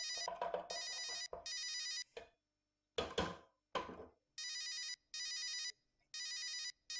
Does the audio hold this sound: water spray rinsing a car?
no